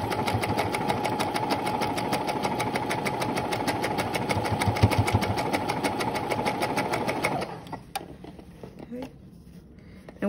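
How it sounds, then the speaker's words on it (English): A sewing machine stitches fabric in a steady, rapid, close-up whir for about seven seconds, going around a piece of a bell-bottom garment, then stops abruptly, leaving faint handling noises. "go on it, stitch around it, well, sew it twice"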